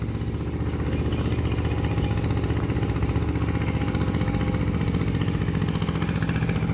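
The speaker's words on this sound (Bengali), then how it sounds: "এই যে নৌকা যাচ্ছে।" An engine boat passing on the Padma river, its motor chugging in a loud, steady, close throb with a rapid rhythmic pulse that continues unbroken throughout.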